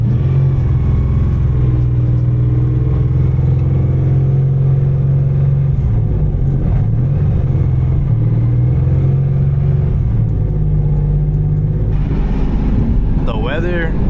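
A Nissan S15 driving, its engine a loud, steady low drone with shifting tones as speed changes, heard from inside the car for the whole stretch, with a voice briefly near the end.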